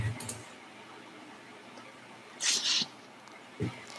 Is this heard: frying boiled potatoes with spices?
no